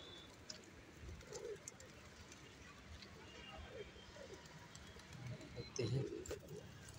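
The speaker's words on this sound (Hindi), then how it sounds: "देखिए सब कबूतरों का झुंड है" Flock of pigeons cooing, soft throaty coos rising in a few separate bursts, faint and close, against a quiet background with light bird chirps.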